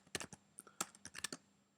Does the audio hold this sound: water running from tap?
no